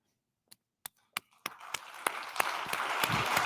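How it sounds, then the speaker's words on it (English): Applause for a conference speaker starts with a few isolated claps, then swells into a steady, dense round of clapping from a full audience in the hall. "there's a big round of applause for you just then"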